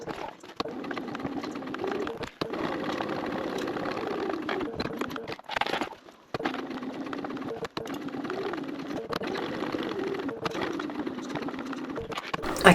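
A sewing machine top-stitches vinyl on a backpack, running in a steady low whir for several seconds at a stretch, broken by brief stops.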